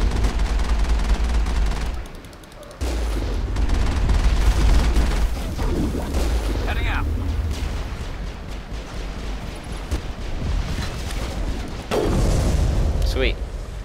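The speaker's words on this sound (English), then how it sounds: "The Mako has this giant cannon." Heavy cannon fire from the Mako vehicle in the Mass Effect game, dense booming blasts and explosions in a continuous loud barrage with rumbling battle noise throughout.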